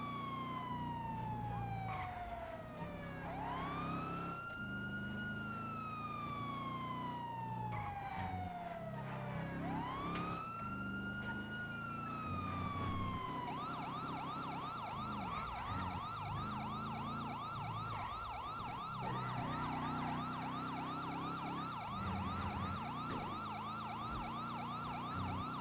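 Police sirens in a video game wail continuously, sweeping up and down before switching to a rapid yelp, loud over the hum of a car engine.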